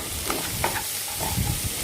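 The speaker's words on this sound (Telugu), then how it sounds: "ఈ తాలింపులో పుల్లలు పుల్లలుగా వండి పెట్టుకున్నటువంటి అన్నాన్ని మిక్స్ చేస్తున్నాను" Cooked rice and omelette pieces are stirred into a hot tempering with lemon juice and tomato ketchup for chicken fried rice, giving a brief, close sizzle with light scraping.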